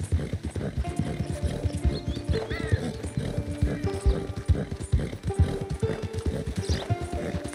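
Rhythmic clip-clop of horse hooves with a horse neighing and whinnying, close by, under music and effects from the game Red Dead Redemption 2.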